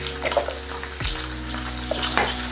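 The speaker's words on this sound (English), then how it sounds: "I'm gonna turn down the beef that's browning. It's caramelizing pretty good." Beef browning in a pot for birria sizzles with a steady low crackle, broken by a few soft clanks and scrapes nearby.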